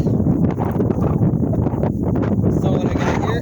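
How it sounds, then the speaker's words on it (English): Gusty wind buffets an outdoor hillside garden on a breezy day, a steady broadband rush and rumble that persists throughout with no pauses. "it seems to be another breezy day up here."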